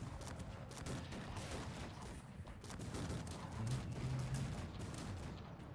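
Rapid, dense cannon and gunfire volleys from a Cossacks 3 real-time strategy battle with Austria, rumbling steadily and loudly throughout with no break.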